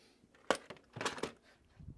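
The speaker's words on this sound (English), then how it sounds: "We have all the bolts here, so we'll just put that right in here." Small metal bolts from a two-stroke outboard's water pump clink and rattle as they drop into a parts bin, a few sharp close metallic hits in quick succession.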